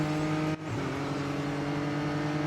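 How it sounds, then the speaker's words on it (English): Race car engine in the Real Racing 3 mobile game, a steady droning whine with strong harmonic bands, briefly dipping for a gear change before resuming, no voices. "I don't like how this car sounds though."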